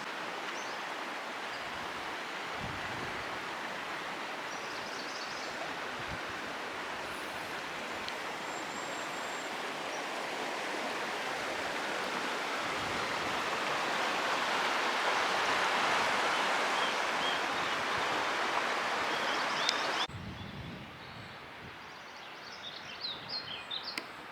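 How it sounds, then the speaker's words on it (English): A shallow stream flows steadily as a dense, broadband wash of water that swells slightly mid-clip, with faint bird chirps above it, then drops to a quieter, thinner trickle near the end. "So it's pretty shallow. We could probably get away with going through the stream"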